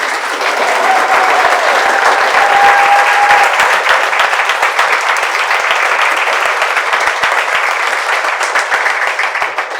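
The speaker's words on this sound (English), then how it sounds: "So a massive round of applause for Kat and Sarah." A room full of people applauds after a mental health and wellbeing panel, dense and loud, holding steady for several seconds and easing slightly toward the end, with a faint whistle early on.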